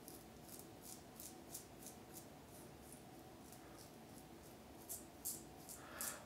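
A razor cuts through beard hairs during a wet shave, a faint, rhythmic run of short scraping strokes repeating every fraction of a second, close and quiet with no talk.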